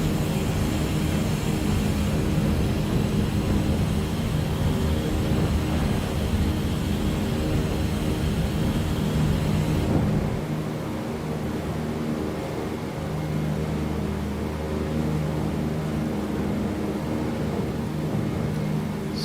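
Douglas DC-3 radial engines in MSFS 2020 climbing after takeoff from La Vanguardia, Colombia, a loud, steady, throbbing drone that drops to a lower, duller tone partway through and holds there.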